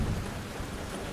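Steady rain falls with a low rumble of thunder underneath, a dense continuous wash of sound with no voices.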